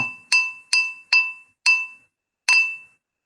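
A small wooden stir stick taps a glass cup five times in an uneven rhythm, each a bright ringing clink that decays quickly, close and alone without talk.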